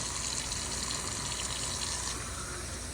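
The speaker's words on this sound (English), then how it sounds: "Now hold that lid down and just kind of wash them around." Water swishes inside a can of beans held with its lid pressed down, a dense, steady wash of rushing liquid heard up close for a few seconds.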